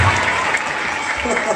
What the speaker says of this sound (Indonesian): Tepuk tangan sendiri.